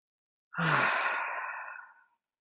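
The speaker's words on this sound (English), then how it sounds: "make it audible so you hear yourself breathing" A single deep, audible breath, a long breathy exhale that fades out slowly, with silence before and after.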